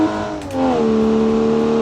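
A 1946 Lexington Owl light sports car in BeamNG drives with a loud, close engine note that climbs in pitch and then holds a steady hum as it accelerates.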